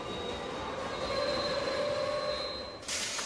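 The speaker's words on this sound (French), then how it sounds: "Au métro." A metro train rolls along with a steady, loud rumble and a sustained high wheel squeal, continuous throughout with a brief shift near the end.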